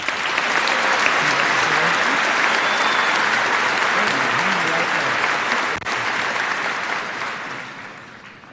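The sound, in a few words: audience applause honoring the salutatorian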